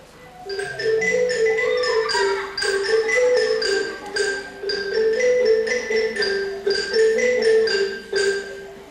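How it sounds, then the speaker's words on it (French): A school ensemble of xylophones plays together in a concert hall, bright struck wooden notes tumbling in quick overlapping runs and repeated patterns, fairly loud and continuous without voices. "Vous remarquerez l'alternance des parties de xylophone qui commencent."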